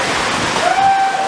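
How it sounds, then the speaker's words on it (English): A dense, rushing hiss of heavy rain pours down at the Kentucky Kingdom amusement park, loud and close, with no break for the whole brief moment. "can't ride right now because it's raining so hard"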